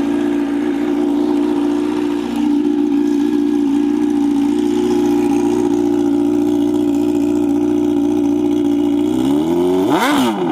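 A motorcycle engine recorded up close at the exhaust pipe gives a loud, steady idling rumble, then one sharp rev that rises and falls near the end.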